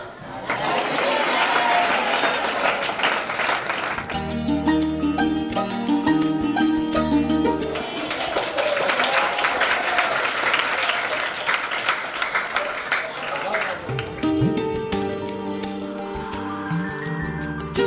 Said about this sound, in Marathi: हॅपी रिटायरमेंट म्हणा सर्वांनी टाळ्या वाजवा.